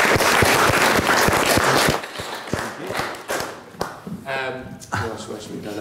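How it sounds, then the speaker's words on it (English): Audience applause greets a sales director from the Financial Times walking onstage at a publishing industry panel, dense clapping for two seconds, then thinning into scattered claps and thuds with voices starting up near the end. "Just give him a round of applause."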